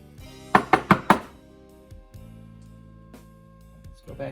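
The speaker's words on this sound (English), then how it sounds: "Tap out some of the brass shavings and go back in again and make sure it's nice and clean." Four sharp, close knocks in quick succession as brass shavings are tapped out of a freshly drilled brass tremolo block for a Floyd-style bridge, followed by a low steady hum and a couple of faint thuds.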